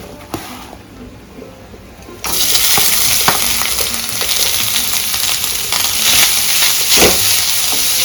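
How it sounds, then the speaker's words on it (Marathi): Poppy seeds dry roast in a pan with ghee, starting as quiet scraping and stirring and then turning into a loud, continuous sizzle with occasional clinks of the stirring spoon. "खसखस आई जरा भाजून घेते."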